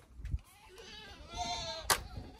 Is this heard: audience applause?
no